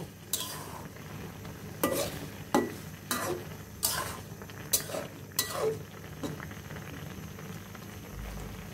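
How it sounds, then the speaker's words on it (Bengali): Taro fritters frying in a pan as they are gently flipped, with several distinct scraping and clinking turns of the utensil over a low, continuous sizzle. "এখন আমরা একটু আলতোভাবে উল্টিয়ে দিব।"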